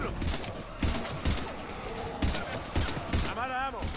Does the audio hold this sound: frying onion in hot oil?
no